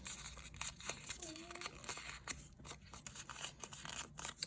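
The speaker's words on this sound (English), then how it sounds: "Let's go ahead and crumple it up" Sheet of paper crumpled up by hand for a junk journal craft, a close crinkling and crunching spread in short bursts over a few seconds, with faint background noise.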